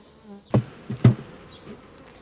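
A close, steady buzz of honeybees swarming around a hive frame, with a couple of sharp knocks against wood.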